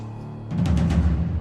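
A steady low drone gives way to a dense, swelling wash of dissonant atmospheric score for the Hannibal TV series, with smeared, shimmering upper tones over a heavy low bed.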